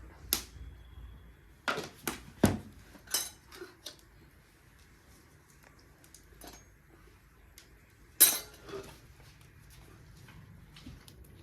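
A spoon clinks sharply against a bowl while spinach is stirred into gram flour batter for pakoras, with scattered taps in small clusters and quiet gaps between them.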